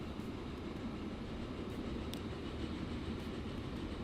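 Trains run in the rail-building game Transport Fever 2, making a steady, dense rumble with faint clicking wheel noise, continuous and unbroken.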